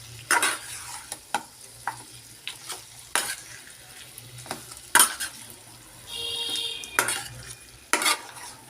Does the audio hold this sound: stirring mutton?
yes